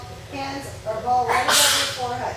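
A single sneeze bursts out during a yoga class, sharp and breathy, cutting over an instructor's steady spoken cues that continue around it.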